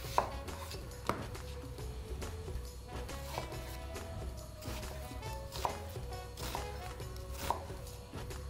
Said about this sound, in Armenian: մանր կտրատենք գլուխ սոխը